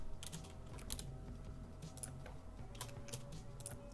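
Rapid clicking of keys on a computer keyboard while entering commands in Blender 3D modeling software, with irregular bursts of close, crisp taps and short pauses, no talking.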